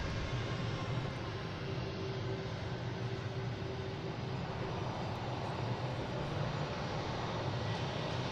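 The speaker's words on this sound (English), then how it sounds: "next taking off is Delta heading to Amsterdam. An A330-900." A Delta Airbus A330-900 rolls for takeoff at Boston Logan, and its jet engines make a constant, distant broadband roar.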